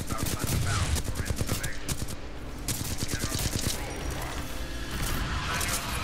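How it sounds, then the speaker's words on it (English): Rapid bursts of rocket-like gunfire from a weapon in the video game Titanfall 2 crackle loudly and almost continuously, dense repeated shots layered over busy game noise. "It's like miniature rockets or something. I don't like this gun."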